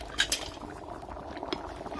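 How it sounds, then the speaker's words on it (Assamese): Prawn curry boils in a pot, a soft bubbling simmer near at hand with a couple of light metallic clinks of utensils at the start. "বইল হৈছে চিঙৰা আঞ্জা উতলি আছে"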